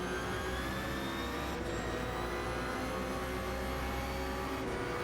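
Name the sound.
Ferrari 499P hypercar engine in Gran Turismo 7 video game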